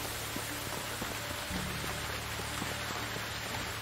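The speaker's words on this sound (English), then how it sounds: "Sound of the rain. It's always relaxing." Steady rain in the video game Medieval Dynasty, a dense, even hiss of falling drops that holds unchanged throughout at moderate loudness, with faint game sounds beneath and no voices.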